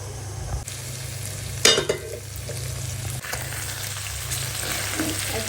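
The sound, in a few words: stirring ginger garlic paste frying in a pan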